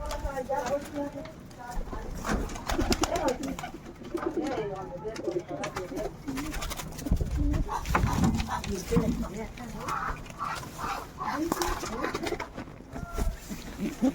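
Pigeons coo and flutter nearby as several birds are let go one by one, with wingbeats and scuffling mixed under someone talking almost continuously throughout.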